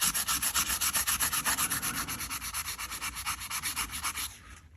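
Rhythmic back-and-forth rasping of hand sanding a knife, quick even strokes repeated about a dozen times, close and fairly loud, stopping abruptly at the end.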